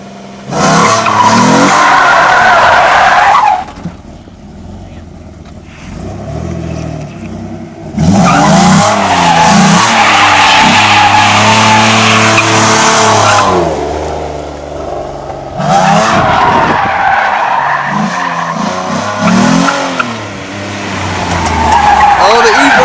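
A 3.7 V6 Mustang drifts in repeated passes, its engine revving hard while the tires squeal and skid loudly nearby, with short quieter gaps between bursts and people talking and shouting over the noise.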